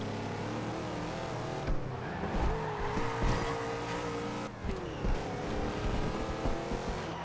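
Racing cars roar through a race in the video game Forza Horizon 2, engines droning and shifting pitch continuously, with brief tire squeals and thumps of contact breaking through the steady din.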